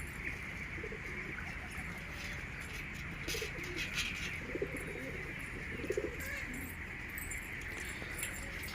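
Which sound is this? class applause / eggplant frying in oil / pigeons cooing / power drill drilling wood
pigeons cooing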